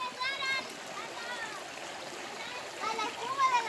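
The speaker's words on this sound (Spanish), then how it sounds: "Bajando las cascadas del río." River water cascading down small falls in the countryside, a steady close rushing and splashing flow with faint voices in the background.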